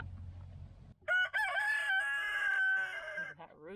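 A rooster crows loudly and close by in one long, sustained call, after a stretch of low background noise.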